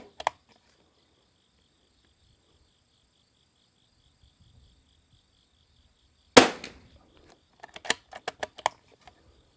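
Single .22 rimfire rifle shot with RWS R50 ammunition fires at a target range as one sharp crack, followed by a flurry of smaller clicks and clatters, amid long quiet stretches.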